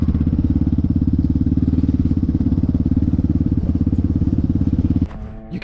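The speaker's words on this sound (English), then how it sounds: "You can hear that two-stroke for miles," A loud two-stroke dirt bike engine drones steadily at high revs, with a buzzing, rattling pulse, then drops off abruptly near the end.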